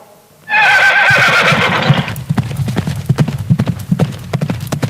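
A horse gives a loud, close whinny, then its hooves clip-clop in a steady rhythm as it moves along, with no other sound over it.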